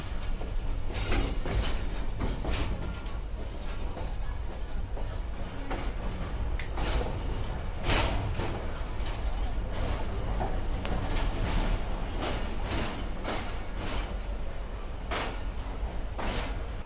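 A Mohen Jo Daro Express passenger train rolls into platform 2 at a Sindh railway station, a sustained low rumble with scattered clanks and knocks of the carriages, close and continuous throughout.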